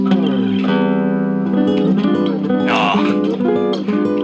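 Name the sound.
diminished chord intro on Cordoba GK Studio Negra nylon guitar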